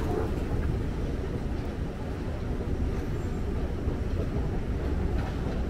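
Doha Metro train running, a steady loud rumble of the carriage in motion with broadband rail noise continuing throughout, no distinct voices.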